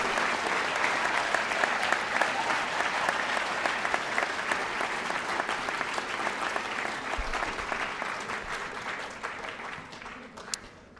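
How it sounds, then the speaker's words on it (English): A large crowd applauds the 2024 high school Hall of Fame inductees with dense, sustained clapping that stays loud and even for several seconds before gradually thinning toward the end. "Please join me in one final round of applause for our Hall of Fame class of 2024"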